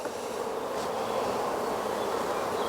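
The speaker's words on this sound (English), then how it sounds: "the bees are now working, so that's fine" Honey bees work over a hive frame during a comb change, giving off a continuous, even hum of many wings close by, with no voices.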